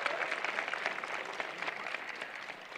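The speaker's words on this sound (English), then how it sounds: "Maybe a round of applause for all the fun we're going to have." Applause from a university convocation audience, many hands clapping in a bright, busy wash with sharper individual claps standing out, moderately distant and steady throughout before tapering slightly at the end.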